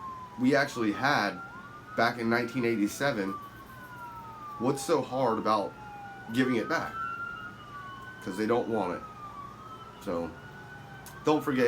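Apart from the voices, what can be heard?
police sirens passing outside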